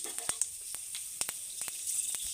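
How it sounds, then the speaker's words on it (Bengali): Crackling sizzle of panch phoron (whole five-spice seeds) hitting hot oil in a kadai, a steady hiss with sharp pops scattered throughout, close and fairly quiet. "এবার এর মধ্যে আমি একটু পাঁচ ফোড়ন দিয়ে দিলাম"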